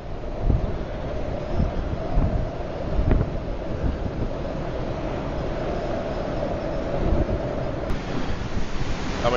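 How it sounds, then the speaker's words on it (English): Strong wind roars across the open Mediterranean Sea aboard a cruise ship, a continuous buffeting rush with gusty thumps against the microphone and waves beneath. "but it is very, very windy."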